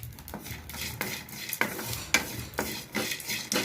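Cough remedy ingredients are stirred together in a pan off the heat, with a spoon scraping and clinking against the metal in uneven strokes, close and fairly loud, with no voices.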